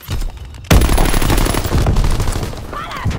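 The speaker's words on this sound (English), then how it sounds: "Strafing run!" Strafing-run gunfire in the Call of Duty WWII game on the Shipment 1944 map, a sudden loud barrage of rapid shots and impacts that begins after a brief quieter moment and roars continuously to the end.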